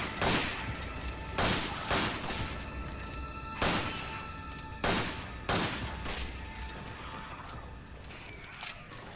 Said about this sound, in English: We're just gonna shoot everything now